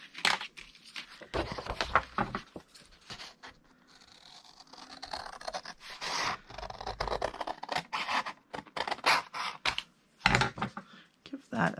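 Scissors trim a piece of patterned paper to make a scrapbook pocket, giving repeated short crisp snips and rustles of the sheet, close up, with quiet pauses between bursts.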